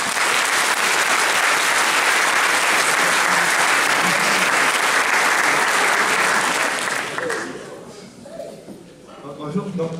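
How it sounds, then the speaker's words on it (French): A large audience at a Japanese culture convention panel applauds loudly, a dense, sustained wash of clapping that fades after about seven seconds into quieter crowd murmur and talk. "On peut l'applaudir bien fort."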